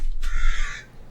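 A crow gives a single loud, harsh caw, close and alone, followed by a short quiet tail.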